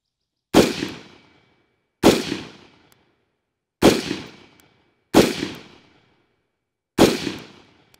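Five loud, sharp rifle shots are fired at a target with an EOTech holographic sight, each crack spaced roughly one to two seconds apart and followed by a short echoing decay.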